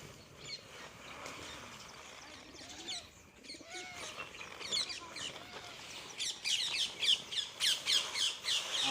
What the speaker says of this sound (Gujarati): અત્યારે જો કેટલા કબૂતર આવે છે